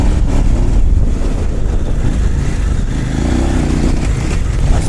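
Kove 800X Pro motorcycle underway on a ride, a steady, continuous engine drone mixed with heavy wind buffeting across the microphone, loud and unbroken throughout with no voices.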